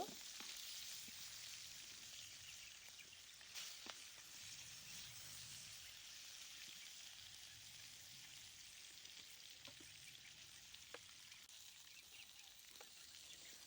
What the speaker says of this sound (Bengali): এখন মাছগুলো উল্টে পাল্টে ভালো করে ভেজে নিব